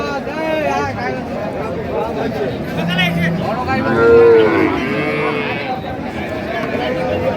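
Cows and calves moo repeatedly nearby amid a busy cattle market crowd, with people chattering in the background throughout.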